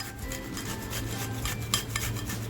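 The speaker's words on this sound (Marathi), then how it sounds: "मी लसूण घेतली आणि ही लसूण आहे ना ही मी अशी किसून घेणार आहे" Fresh garlic cloves grated by hand on a metal kitchen grater while making fried ravas fish masala, a steady close scraping rasp that runs on without a break.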